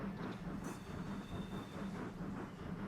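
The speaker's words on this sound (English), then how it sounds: "It's a dinky little train" A small passenger train with a single wagon, a BR 74/75 class tank engine, rolls along the rails in a railway simulation game, giving a faint, steady rumbling hum with a soft rhythmic pulse.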